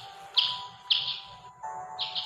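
A baby bird in the video game Boku Boku gives three bright, rising chirps spaced about half a second apart, clear and close over a faint rhythmic low thump.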